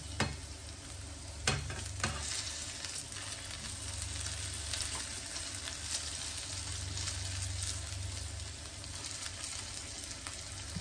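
Tuna fillet frying and browning in a pan with garlic and onion, a steady loud sizzle running throughout with a few clinks of a utensil near the start, no talk.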